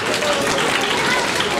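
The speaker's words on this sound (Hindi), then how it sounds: "आप सबकी भरपूर तालियों में अलिशपा।" Crowd clapping for a student receiving a medal at a school ceremony, a dense, even wash of applause with voices faintly underneath.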